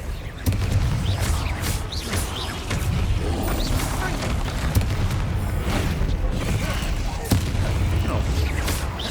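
Spell explosions from Bombarda and Confringo in Hogwarts Legacy on PC burst in dense, booming succession, layered over continuous combat noise with a voice talking throughout.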